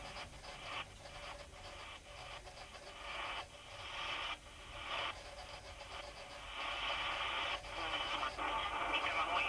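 A portable shortwave radio, Kaito KA29 or Eton Traveler III, tuned between stations near 9.565 MHz, giving hissy static with rising and falling bursts of noise and faint distorted signal; continuous, no speech.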